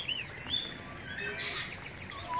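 Birds in a zoo bird cage chirp and tweet in quick, faint overlapping calls over a soft background hum, with no one speaking.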